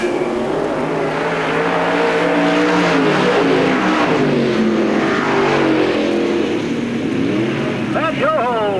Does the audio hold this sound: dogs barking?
no